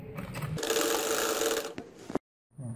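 A sewing machine stitches a poncha, running in a steady mechanical whir with a rapid needle rattle, close and loud, before stopping abruptly; a few soft handling sounds follow.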